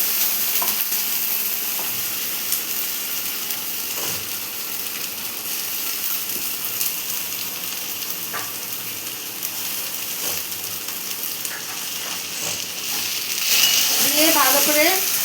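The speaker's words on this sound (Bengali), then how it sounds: "ফোড়ন দিয়ে পেঁয়াজ দিয়ে ভাজছি।" Onion frying in hot oil in a pan with ginger, garlic and green chili paste, a dense, even sizzle with scattered clicks of stirring throughout, swelling louder near the end.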